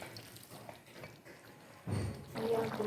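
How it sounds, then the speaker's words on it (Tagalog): Mushrooms and their liquid are poured into a pot of boiling cream with chicken, a brief wet splash and pour near the end after a quieter stretch of simmering and faint background noise. "Isunod natin ang mushroom. At saka yung tubig ng mushroom."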